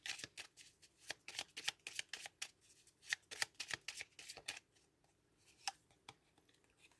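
Tarot cards are shuffled before an angel key card is drawn. They make a rapid run of crisp riffles and slaps, then a few slower, sparser flicks near the end. The sound is close and quiet, with no speech.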